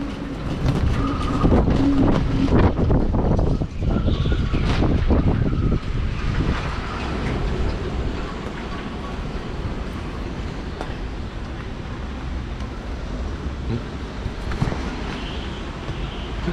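Strong 50-knot wind gusts roaring loudly outdoors, a heavy buffeting rush in the first few seconds that settles into a steady, lower blustery drone.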